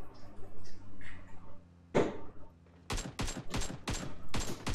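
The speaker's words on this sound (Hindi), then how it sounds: "यार इब्रार इसको समझाए फायरिंग कर ही जा रहा है" Rapid bursts of automatic gunfire in PUBG Mobile, several loud close volleys in quick succession with sharp broadband cracks, after a quieter stretch of background game noise and a single earlier shot.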